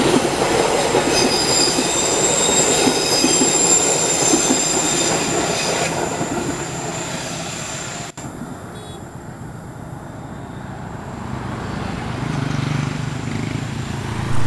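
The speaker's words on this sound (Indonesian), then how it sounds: "mantap sekali kereta api Pasundan. Ternyata hari ini memberikan atraksi kobong atau erupsi ya, lokomotif" A Pasundan passenger train hauled by a CC203 diesel locomotive crosses the Cirahong bridge with loud, continuous rumble and rail noise, wheels squealing and clattering over the span before the passage eases toward the end.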